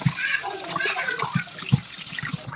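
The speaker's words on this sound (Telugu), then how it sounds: "సాల్ట్ వేసి మటన్ని 3-4 టైమ్స్ బాగా వాష్ చేసుకోవాలి" Raw mutton being washed by hand in salted water, with close sloshing and splashing plus a few soft thumps as the meat is rubbed, repeated through the short clip.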